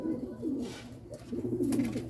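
Several pigeons arriving at a loft coo softly and repeatedly at close range, with faint fluttering and background rustle.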